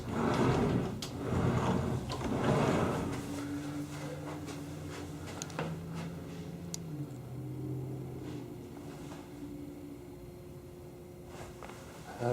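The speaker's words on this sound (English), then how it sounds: "Closet doors work pretty good here." Closet doors in an emptied house in Gilbert, Arizona slide and thump through opening and closing, with rolling scrapes and a few knocks, close and moderately loud, with no talking.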